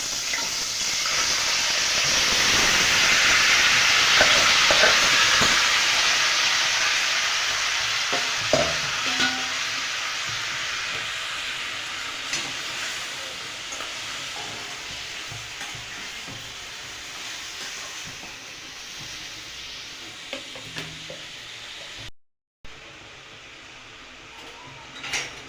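Mutton hits a little hot oil in a kadhai and is stirred: a loud, broad sizzle swells over the first seconds, then settles into a steadier crackle with scattered scraping stirs and clinks close by.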